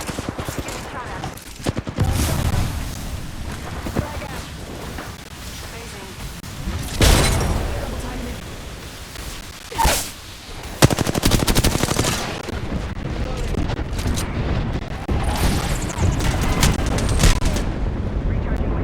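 Gunfire in Apex Legends: dense, continuous shooting and booming impacts form a loud, busy battle mix that swells at intervals, with talk running over it.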